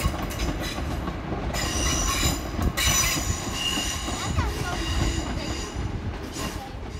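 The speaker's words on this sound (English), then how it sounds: "Got a Northern Electric DMU, well no, EMU, because it's an electric unit, but that's going into Crewe Station" A Northern electric multiple unit train runs into Crewe Station with a loud, steady rumble of wheels on track, rhythmic clatter and high wheel squeal, heard close by.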